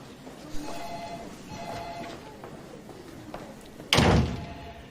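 An office door shuts with a single solid, close thud and a short rattle, set against a low room hum with faint earlier knocks.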